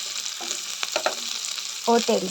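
Fish coated in masala fries in hot oil, making a close, steady sizzle with a few short bursts of crackle and stirring.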